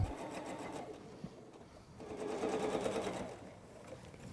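A sewing machine chain pieces a star quilt block for a wall hanging, its motor whirring continuously at close range with a rapid needle rhythm that rises and falls in speed.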